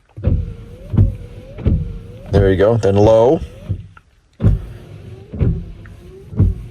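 Car windshield wipers, run through the front wiper relay from a scan tool, sweep back and forth in a steady rhythm, each pass with a soft motor whine, while someone talks briefly between strokes.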